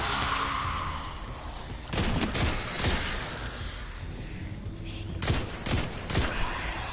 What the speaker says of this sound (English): a rapid fire of the grenade launcher is essentially a GG scenario